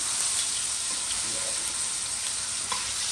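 Steak sears in a hot pan with a steady, bright sizzle and hiss that continues without a break, broken only by faint crackles.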